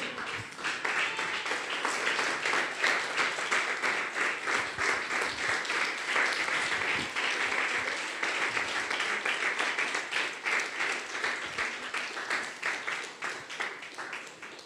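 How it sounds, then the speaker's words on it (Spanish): A church congregation claims in sustained, dense applause, a steady roar of many hands clapping together for about fifteen seconds with no talking. "Alguien puede ponerse de pie y levantar un aplauso al Rey de Reyes"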